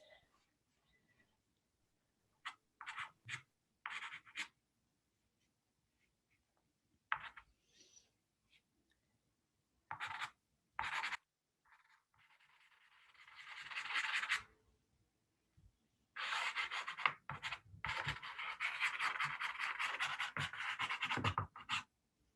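Hard pastels drawn across paper, dry scratchy strokes in short bursts with pauses, then a longer run of rapid back-and-forth scribbling near the end, close and fairly quiet.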